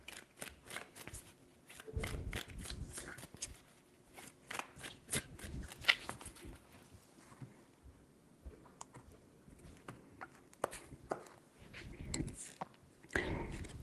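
Tarot cards are shuffled by hand in repeated bursts of quick riffling and slapping, close and fairly quiet, with faint whispery speech between them.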